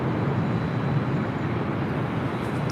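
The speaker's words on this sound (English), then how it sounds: "Virgin Atlantic Flight 23 coming in from London on a 787-9 Dreamliner" A Virgin Atlantic Boeing 787-9 Dreamliner landing at LAX, a steady broadband jet roar that holds at a constant level with no talk.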